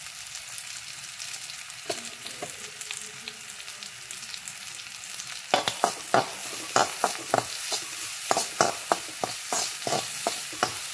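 A spoon stirs chopped carrot and grated coconut in a hot pan for methi mutter cutlets. Rhythmic scraping strokes sound over a soft, steady sizzle, growing more regular partway through, with no voices.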